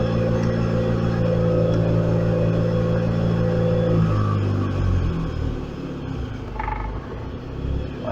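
A car engine idling under Speeduino idle actuator control, a steady close hum that drops to a lower, rougher rumble partway through as the idle speed is lowered.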